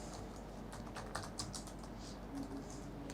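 Steady typing on a computer keyboard while an order form name is entered in CRM software, a quick run of light key clicks over a faint room hum with no speech.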